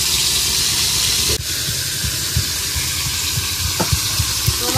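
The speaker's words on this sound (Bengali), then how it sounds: "আমার বান মাছগুলো ভালো করে ভাজা হয়ে গেছে" Eel fish frying in mustard oil in a hot wok, a steady close sizzle and hiss with faint clinks from stirring, no talking.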